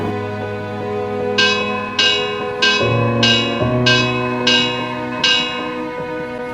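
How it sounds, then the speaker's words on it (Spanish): A bell rings several times in an even, measured rhythm, each stroke bright and ringing over a sustained musical tone, loud and close. "Carlos Samena tocó la campana."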